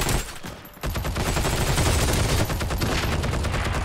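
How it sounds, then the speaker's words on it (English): A window-mounted MG42 machine gun in the Heroes & Generals game fires a long rapid burst, loud and close. A brief lull near the start is followed by continuous crackling fire to the end. "MG42 mounted in the window below me"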